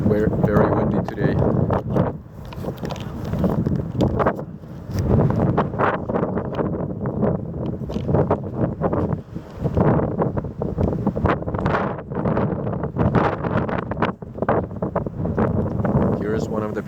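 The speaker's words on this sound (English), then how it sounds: "It's very windy today." Strong winter wind buffets the microphone outdoors near a riverside building, making continuous rumbling gusts. A person talks through much of it.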